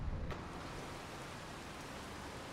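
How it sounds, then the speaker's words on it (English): Steady rain pours in Farming Simulator 25, a dense, even hiss of falling water with no pauses, filling the whole short stretch at a moderate level. "Is that rain? It is rain."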